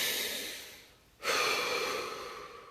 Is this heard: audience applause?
no